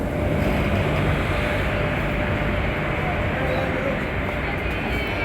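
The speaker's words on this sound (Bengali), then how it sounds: "ট্রেন এখন ছেড়ে দিয়েছে আমাদের, দেখতেই পাচ্ছ আসানসোল থেকে ছেড়ে বেরিয়ে যাচ্ছে বরুণাচল এক্সপ্রেস" The Baruachal Express pulls out of Asansol, heard from on board as a constant, loud rolling rumble of carriages with a broad roar that barely changes over several seconds.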